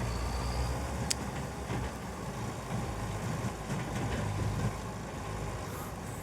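A tractor engine in the farming video game Farming Simulator 25 runs steadily with a low, continuous rumble and no talking.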